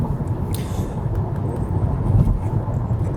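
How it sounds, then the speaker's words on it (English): Steady broadband road and tire roar heard from inside a 2020 Volvo S60 T8 Twin Engine plug-in hybrid at highway speed, a constant low rumble that fills the whole clip without a break. "You can hear a little bit more of the tire noise"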